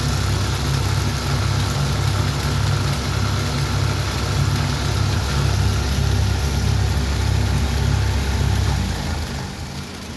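Ceiling fan coil winding machine running, a loud steady motor hum with a rapid rhythmic low pulsing that holds for about nine seconds before easing down at the end.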